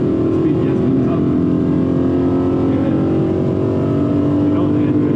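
A BMW E92 M3 with a naturally aspirated engine pulls hard in fourth gear, a loud steady droning engine tone rising gradually under sustained acceleration, heard from inside the car with constant road and wind noise.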